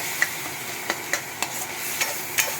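Mashed boiled potato frying with masala in a pan for egg masala curry: a faint steady sizzle with a few sharp scraping stirs spaced through the short stretch, no voices.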